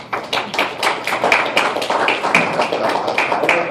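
An evening audience applauds after a presentation, with a scattered, uneven patter of hand claps that builds slightly and then holds at a moderate level, close by.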